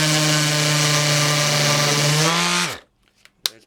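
A DeWalt DCW210 random orbit palm sander running at its seventh speed with used 80-grit paper gives a loud, steady, close whine with a constant hum, then winds down and stops, followed by a few handling clicks.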